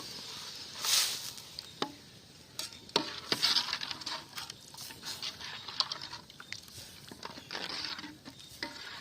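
Fish curry with turmeric being stirred in a pot, a scraping, swishing stir repeated in irregular strokes over a light bubbling sizzle, close and moderately quiet with no talking.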